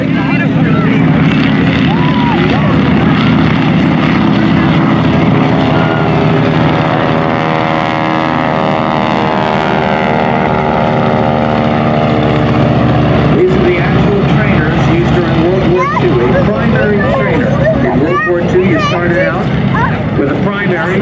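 Propeller airplanes fly in formation at the 2016 Manassas Airshow, a loud continuous droning engine roar that rises and shifts in pitch as they pass, with someone talking over it.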